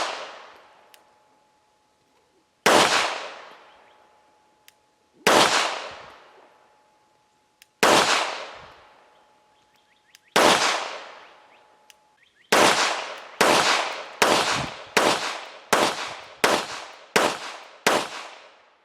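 A Girsan MC 14T tip-up barrel pistol fires at a range. Five sharp shots come slowly, spaced a few seconds apart, each ringing out and fading. A rapid string of about eight loud shots follows, with no talking.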